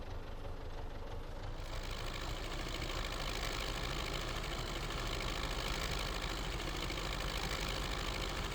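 A small old tractor engine in the video game Farming Simulator 19 runs continuously with a steady, chugging mechanical drone and knocking rhythm, close and even in loudness throughout.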